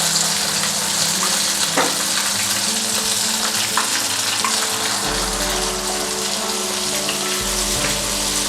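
Chicken drumsticks fry in hot oil in a kadai, giving a steady, loud, dense sizzle with bubbling crackle throughout and no talking.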